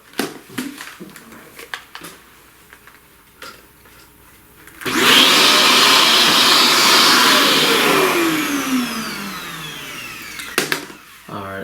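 A vacuum cleaner sucks up loose pastel dust from a flower drawing, switching on with a loud steady whine that runs for about six seconds and then winds down, with quiet handling noises before and after.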